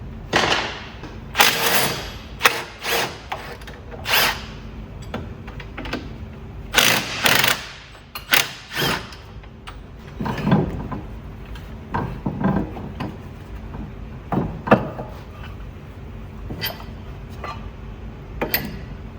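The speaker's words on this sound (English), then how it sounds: "Alright, let's just undo the caliper." A brake caliper is being undone on a Ford BA Falcon, with intermittent bursts of quick metallic ratcheting clicks separated by short pauses, close by and fairly loud.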